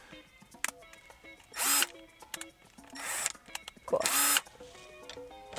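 Tightening the steering wheel bolt on a Nissan 350Z with a power tool, several short whirring bursts close by with clicks and handling noise between them.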